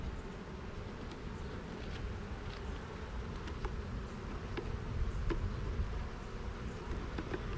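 Honeybees buzz densely around an opened hive during an inspection, a constant close swarm hum with individual bees zipping past the listener.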